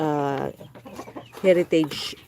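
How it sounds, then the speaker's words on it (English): A young heritage-breed chick, the only survivor of a batch of incubated eggs, makes soft clucking and peeping calls in short bursts. A person talks nearby between the calls. "with this chick, and this is the only one that survived among the heritage"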